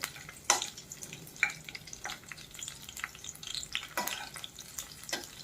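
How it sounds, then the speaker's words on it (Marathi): Garlic frying crisp in hot oil in a wok over a low flame on a large burner, a steady soft sizzle with scattered crackles and a few sharper pops, heard alone. "आपण हा चांगला क्रिस्पी तळून घ्यायचा आहे."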